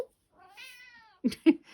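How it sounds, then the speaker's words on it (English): A house cat gives a single drawn-out meow nearby, followed by a couple of short, abrupt knocks or thumps. "Here comes the cat."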